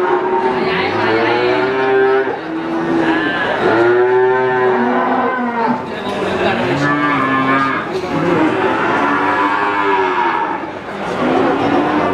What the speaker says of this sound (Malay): Ada sapi-sapi limusin. Dan juga ada sapi simental ini.